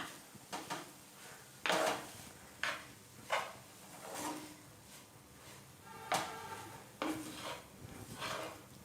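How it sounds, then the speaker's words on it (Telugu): Minced mutton filling mixed with bread crumbs and stirred in a pan for mutton keema mirchi bajji, giving irregular scraping and clinking strikes of a utensil against cookware, close and moderately loud, with no talking. "ఇదంతా కలపాలి. ఇట్లా కలిపి"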